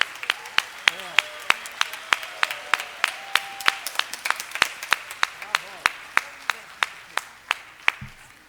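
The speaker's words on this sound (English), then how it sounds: "help giving them another round of applause?" An audience at a sixth grade school band spring concert claps in a rhythmic, evenly spaced unison beat, sharp near claps repeating about three per second throughout.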